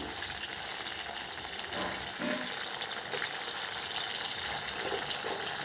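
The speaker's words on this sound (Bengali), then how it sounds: "আমি সবগুলো এখানে ভেজে নিচ্ছি" Soya chunk muthia fry in oil with a steady, even sizzle that is moderately loud and continuous throughout, with no voices.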